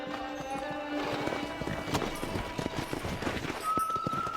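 A horse gallops across open ground in the Red Dead Redemption video game, hooves thudding in a fast, rolling rhythm close by, with a rider's voice calling out over the hoofbeats.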